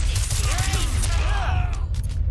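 McCree's revolver firing in Overwatch, a quick burst of loud gunshots amid busy game noise, with a voice talking over the action.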